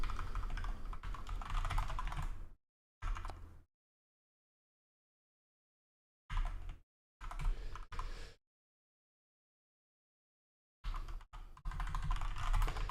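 Computer keyboard typing while a developer works on a CSV export feature in the Godot game engine, coming in three close, busy bursts of rapid keystrokes separated by silent pauses, with no talking.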